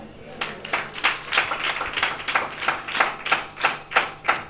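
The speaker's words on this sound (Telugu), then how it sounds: "చప్పట్లు కొడదాం." A church congregation claps hands together in a steady, rhythmic beat, roughly three claps a second, loud and even throughout with no voices over it.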